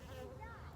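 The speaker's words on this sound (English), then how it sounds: "a bee just literally flew on my phone" A bee buzzing close to a phone: a faint, wavering insect drone that shifts in pitch as it moves about, heard on its own for under a second.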